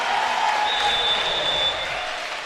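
A basketball arena crowd applauds and cheers, giving a dense, steady wash of clapping and voices that eases slightly toward the end, while commentators talk over it.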